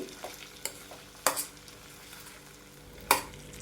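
Chakkara pongali, a sweet rice dish, is stirred in a pan with a soft background hiss and a few sharp scrapes and clinks of the spoon against the pan, close up and with no speech.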